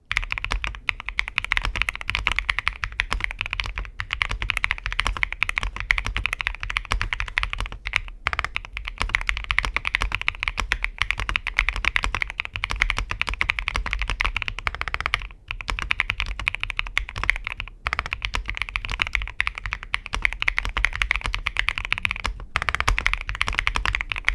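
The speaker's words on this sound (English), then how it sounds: "the all-important sound and typing test" Lunar One mechanical keyboard typing, steady and continuous, with crisp clacky keystrokes close up and no talking.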